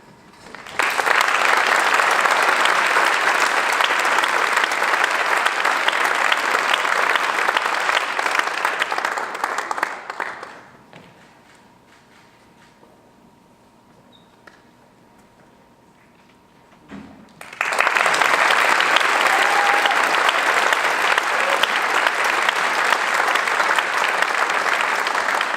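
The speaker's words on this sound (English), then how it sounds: "let's give one last round of applause for all the 2019 distinguished students" Loud, sustained applause from a gala audience at a 2019 Clemson alumni Distinguished Service Award ceremony, clapping steadily for about ten seconds, breaking off into a quiet lull, then swelling again into another long round.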